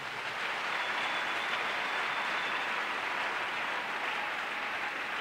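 A church congregation applauding and cheering during a sermon, heard as a dense, steady wash of clapping and crowd noise that holds level for several seconds with no speech.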